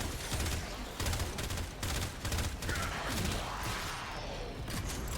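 Rapid gunfire rattles against Corpus enemies in Warframe, a steady stream of loud, close shots with a few brief gaps, backed by a constant rumble of combat.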